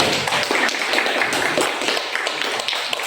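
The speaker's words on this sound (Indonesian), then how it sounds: "Kita beri aplaus kepada kelompok 2." A classroom group claps for a student project team, a short burst of brisk, fairly close applause with scattered individual hand strikes.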